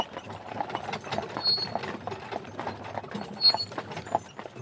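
Horse hooves clip-clop on a road as the horse pulls a carriage downhill in Fischbachau, a steady rhythmic clatter of hoof strikes close by, with a faint metallic jingle now and then.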